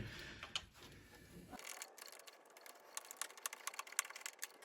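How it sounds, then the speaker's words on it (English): Bolts on a turbo valve bracket of a Citroen C3 HDi being undone with a ratchet, a quick run of close, sharp clicking ticks with some metallic handling noise, no talk. "now I'm just undoing the 2 bolts to this bracket here"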